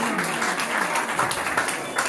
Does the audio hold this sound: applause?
yes